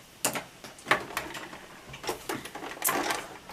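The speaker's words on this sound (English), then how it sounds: "I'm serging with a 4 thread, and then I usually just cut off about the width of the cutter" A serger overlocking fabric with a 4-thread stitch, short mechanical bursts of whirring and clicking with brief pauses, fairly close and moderately loud.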